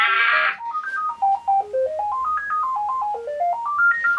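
A phone ringtone plays a bright, stepping electronic melody that rises and falls in a repeating pattern, fairly close and loud.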